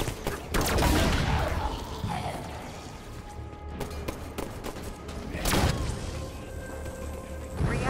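Rocket launcher fire and explosions in Halo 5, loud booming blasts and crashing impacts over a continuous roar of battle, with a second heavy blast near the end.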